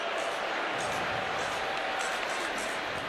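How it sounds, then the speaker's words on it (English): Dense roar of a college football stadium crowd at Kentucky vs Texas, booing broadly and steadily throughout, loud and continuous with no break. "So the crowd boos"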